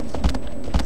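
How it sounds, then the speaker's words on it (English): Horse hooves in Shadow of the Colossus, two heavy thumping footfall pairs about half a second apart over a steady ambient hiss, no talk. "Constantly kicking the horse."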